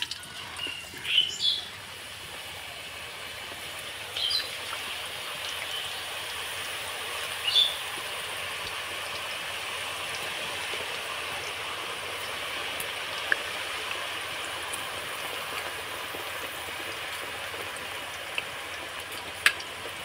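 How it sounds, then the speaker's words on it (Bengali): Homemade potato chips from fresh farm potatoes frying in oil over medium-low heat, a soft, continuous rain-like sizzle held steady throughout, with a few faint clinks. "এইভাবে করে আমি চিপসগুলো ভেজে নেব"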